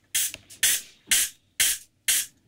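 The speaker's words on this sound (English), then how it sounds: "hat is from the spray bottle." Five short, sharp hissing sprays from a spray bottle, evenly spaced about half a second apart, close and crisp with silence between.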